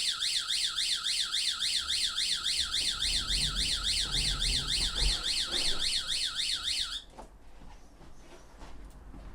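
CCTV line-crossing detection alert sounding as a loud, rapidly warbling electronic siren that repeats steadily for about seven seconds, then cuts off abruptly, leaving quiet outdoor background.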